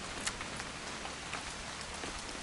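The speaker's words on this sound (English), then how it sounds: "It's gonna rain the whole weekend, isn't it?" Steady rain in the video game What Remains of Edith Finch, a dense, even patter of drops on surfaces with faint scattered splashes, continuous throughout and free of voices.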